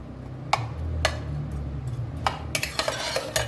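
Spoon stirring fermented curd rice with onion in a cooker, a few sharp metallic clinks and taps over a soft low background, close and quiet.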